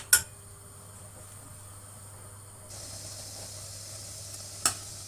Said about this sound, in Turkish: Bunu karıştırarak pişireceğiz.